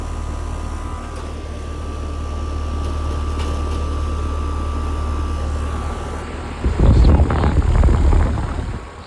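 A freshly cleaned window air conditioner unit runs its fan motor with a steady whirring hum and airy rush close by, swelling into a louder, rougher blowing burst near the end.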